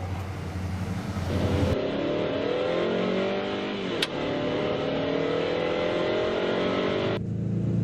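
A Subaru car drives along a road in the morning, its engine humming steadily with rising and falling gear tones, a steady in-cabin drone that stays loud and continuous throughout with one brief bump.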